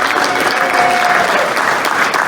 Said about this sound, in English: Can you please stand and give like our ladies, our first ladies, a round of applause.